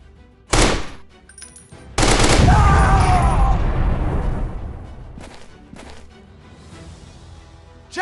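Assault rifle fire in a shooting video game: a sharp burst rings out, then after a short gap a long sustained volley of rapid shots that slowly fades into a softer tail with a few scattered later pops.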